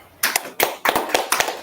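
Group of people clapping together in a room during a class, a ragged run of about eight loud, sharp claps over under two seconds.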